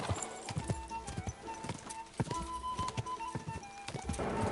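Horse hooves clip-clopping in an irregular, busy rhythm with a faint whinny, moderately close but quiet, with background noise and a tonal hum underneath.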